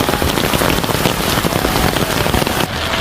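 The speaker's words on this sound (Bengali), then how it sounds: "চতুর্দিক দিয়ে প্রচুর বৃষ্টি আজকে" Heavy rain pours all around under an umbrella in a windy storm, a dense, loud, steady drumming close by that barely lets up for the whole stretch.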